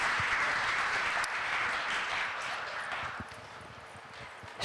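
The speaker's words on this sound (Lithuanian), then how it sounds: "Garsiais plojimais padėkime svarstykliams apsispręsti." Loud, continuous audience applause fills a school centenary celebration hall in Lithuania, dense clapping that holds steady and eases slightly near the end.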